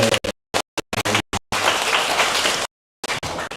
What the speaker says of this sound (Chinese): 不管有没有答对，都给自己鼓掌哦